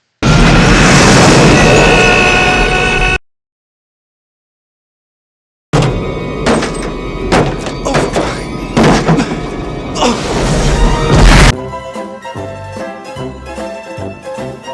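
A loud booming grenade explosion bursts out in the film Die Hard 2, then after a silence come rumbling blasts, thuds and crashing debris amid a dramatic film soundtrack.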